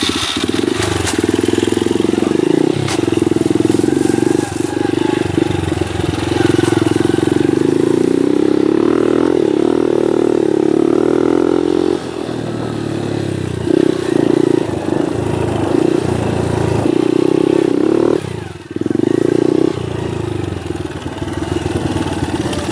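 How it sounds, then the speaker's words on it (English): Pit bike engine runs steadily loud and close for the whole stretch, revving up and down as it is ridden, with a brief throttle drop near the end before it picks up again. "I was gonna film me riding a pit bike"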